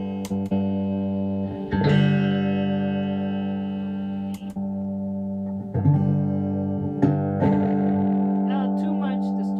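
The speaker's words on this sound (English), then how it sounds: "I'm going to add a little distortion because it's fun." Electric guitar played through a distortion effect during a livestream, sustained gritty chords with a few sharp restrikes and ringing overtones, close and loud with no speech over it.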